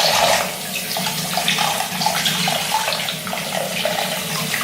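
Tap water running while hands are rinsed under the faucet, a steady splashing stream with slight shifts as the hands move through it, close and fairly loud.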